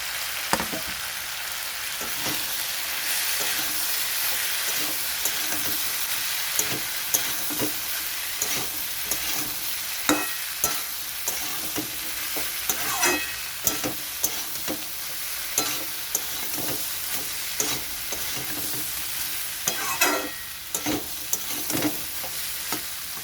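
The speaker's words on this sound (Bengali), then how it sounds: "কিছুটা ছোলা আমি চটকে রেখেছি ঝোলটা ঘন হওয়ার জন্য এখন এটা দিয়ে দিচ্ছি" Mashed chickpeas being stirred into a simmering potato curry, with a steady frying sizzle and frequent scraping, tapping stirs of a spoon against the pan.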